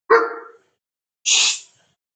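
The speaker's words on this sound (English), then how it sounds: "that's my dog barking." Dog barking at home, two sharp close barks about a second apart, loud and clear against silence.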